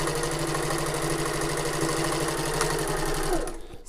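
A sewing machine runs in one steady, close, humming whir while stitching a tote bag seam, then stops abruptly near the end.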